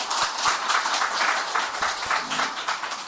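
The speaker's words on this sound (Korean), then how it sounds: "박수 한번 주시기 바랍니다." A church congregation during a Korean Sunday worship service applauds a member, giving a short burst of mixed clapping with a few distinct louder claps within a steady wash of hands, no talking.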